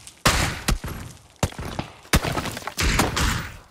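A grenade goes off against a tree in PUBG, one of several sharp, loud blasts and crackling bursts that come in quick succession near the listener.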